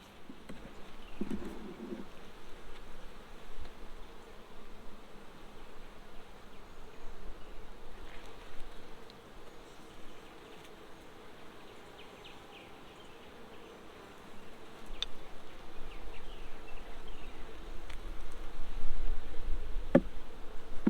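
Honeybees buzz steadily throughout a hive inspection at Cole's Farm, a dense, continuous hum of many insects near the open frames, swelling louder toward the end with a few faint handling knocks.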